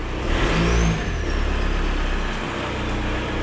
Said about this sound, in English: Hear a little turbo whistle.